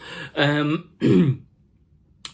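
Two short harsh throat-clearing coughs from a lingering cough, close and fairly loud, separated by a brief pause, followed by quiet.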